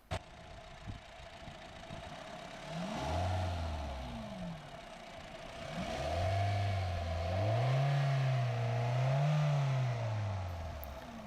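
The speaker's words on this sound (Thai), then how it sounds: "ก็จะประมาณนี้นะครับสำหรับเสียงของเจ้าเครื่องยนต์รถคันนี้เนาะ" A 2011 Honda City with a 1.5-litre VTEC engine runs at idle with a steady hum, then revs up in a short burst and later in several longer rising and falling revs, heard close to the engine.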